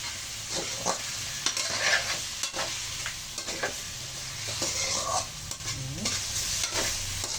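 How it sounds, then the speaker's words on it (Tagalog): Chicken pieces for adobo sautéing in a pan, a steady sizzle broken by repeated scraping stirs at a close, even level with no talking. "habang nagsangkot siya ay may konting lasa na"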